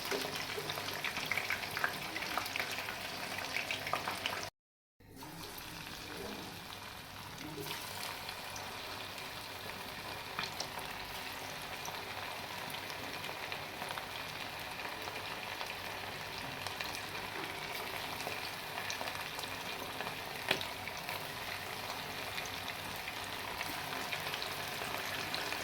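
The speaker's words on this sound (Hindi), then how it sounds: "अच्छी तरह से इसको फ्राई करेंगे" Chicken pakora frying slowly in oil over low heat, a quiet, even sizzle and bubbling that runs steadily throughout, broken by a short dropout near the start, no speech.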